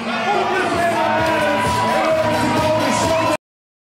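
A capacity crowd of over 8,000 at a Banana Ball baseball game roars and cheers steadily, a dense wash of yells and whoops that cuts off abruptly.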